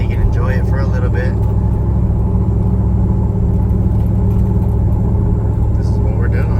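A Ram pickup with a cammed 5.7 Hemi V8 cruising, giving a loud, constant low engine rumble heard from inside the cab throughout, with someone talking over it.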